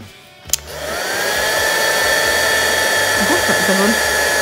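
A handheld heat tool blows steadily to warm gilding flakes for scrapbooking, starting with a click and then holding a loud, continuous whirring hiss for several seconds.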